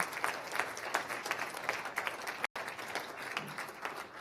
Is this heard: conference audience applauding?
yes